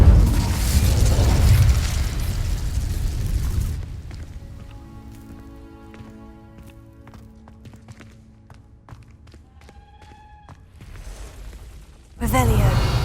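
A roaring fire-spell blast in the Hogwarts Legacy video game bursts out loud and broad for several seconds, fades beneath quieter game music, then flares up again sharply at the very end.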